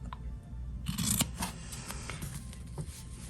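Fabric scissors snip off the corners of a sewn credit card wallet, giving several crisp, close cuts over a low background hum.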